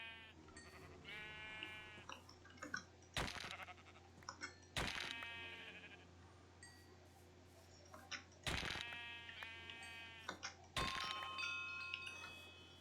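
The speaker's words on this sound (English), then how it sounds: "All the sheep you could ask for." Repeated bleating of sheep in Minecraft, modded version 1.12.2, several high calls scattered across the clip over a steady low background hum, punctuated by a few sharp bursts from gameplay.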